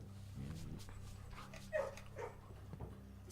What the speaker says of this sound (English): Pet the doggy on our way.